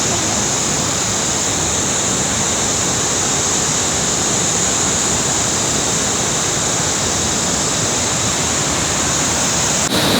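A mountain waterfall on the trek to Madmaheshwar temple roars in a loud, steady, broadband rush of falling water, heard close and continuous throughout with no talk.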